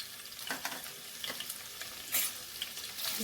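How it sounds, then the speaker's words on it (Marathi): Chopped garlic and ginger fry in hot oil in a pan, a quiet, steady crackling sizzle with a few light scrapes of stirring, close by and without voices. "थोडंसं परतून घेऊया"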